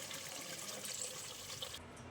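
About 1.5 litres of water is poured into a pot with chicken leg pieces for soup, a steady hissing splash that runs evenly and then thins out near the end, with no talk.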